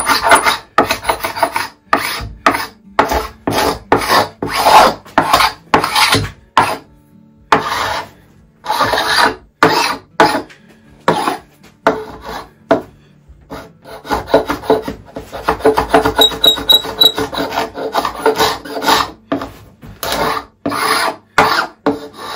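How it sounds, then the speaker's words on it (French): A hand scraper rasps glue off the top of a wooden coffee table with a lift-up top, in repeated short strokes of varying length, close and loud with no talk. "pour gratter la colle, j'ai ça, hein, c'est un scraper."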